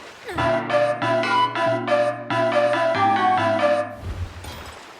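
A Monster Hunter Rise hunting horn plays a bright melody of repeated rhythmic notes over a sustained low drone, ending abruptly into faint hiss.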